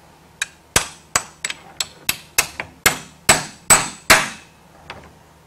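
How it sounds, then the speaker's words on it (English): A dozen sharp metallic hammer taps seat a cutter in a RIDGID 1224 threading machine, close and loud, striking at an uneven, steady pace with ringing decays and a short pause before a final lighter tap. "Grab my hammer."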